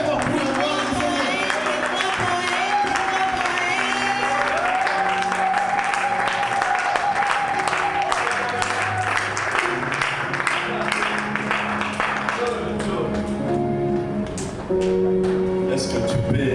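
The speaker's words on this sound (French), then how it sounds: "acclamons très fort pour la gloire du Seigneur." A church congregation applauds loudly and continuously while music plays, the clapping sustained throughout with voices mixed in.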